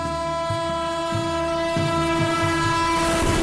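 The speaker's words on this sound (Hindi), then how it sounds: "अब सामने से आ रही है एमपी संपर्क क्रांति एक्सप्रेस और ओवरटेक करी अपनी प्रयागराज स्पेशल को।" MP Sampark Kranti Express passing at night while overtaking a Prayagraj special train, a loud close horn sounding steadily throughout over a rhythmic clickety-clack of wheels on rail joints.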